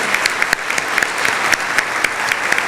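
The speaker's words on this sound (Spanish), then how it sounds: "un aplauso para nuestro orador invitado" A luncheon audience applauds its guest speaker, Frank Rainieri, with dense, steady, close clapping, sharp individual claps standing out throughout.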